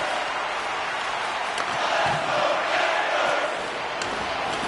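Crowd cheering fills an arena in an NHL 25 hockey simulation of a Panthers vs Maple Leafs playoff game, a dense, continuous roar that rises and falls gently with no clear words.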